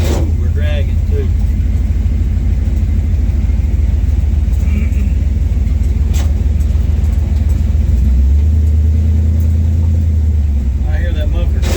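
Exhaust muffler of a car dragging low on the road while driving into Monroe, Michigan, a steady loud low rumble throughout, deepening near the end, with people talking over it.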